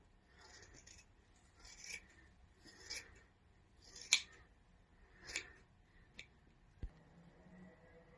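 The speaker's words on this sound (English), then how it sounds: "You're cutting off all the kind of uneven ends." Scissors snipping uneven, split hair ends while trimming, giving a handful of quiet, separate crisp cuts spaced about a second apart, close and alone with no talk.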